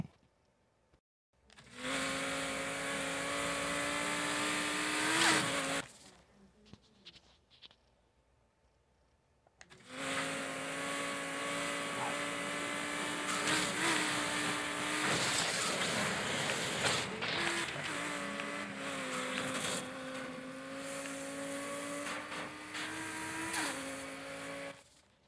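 Engine drone of an Audi sports car in a street race in the video game NFS Heat, a steady whine with shifting pitch that cuts out for a few seconds and then returns, close and loud.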